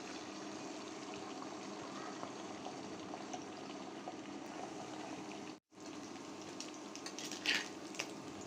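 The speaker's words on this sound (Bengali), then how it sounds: "ডিম ভাজার জন্য চুলায় একটা হাঁড়ি বসিয়ে দিয়েছি সয়াবিন তেল।" Egg frying in hot soybean oil in a pot on a stove, a steady broadband sizzle running throughout, briefly cutting out for a moment near the end before resuming, with no talk.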